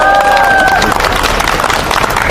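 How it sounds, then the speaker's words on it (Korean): Loud, dense crowd applause at an outdoor election-fraud protest rally at Daehanmun gate, continuous clapping mixed with crowd noise and a brief tonal sound at the start. "다시 한번 큰 박수 부탁드립니다."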